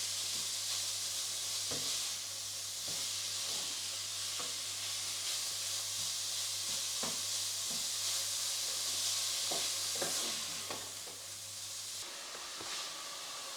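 Beef mince sizzling gently in a pan for a cottage pie, a continuous soft frying hiss broken by scattered light taps and scrapes of a spatula breaking up the meat, with no talking.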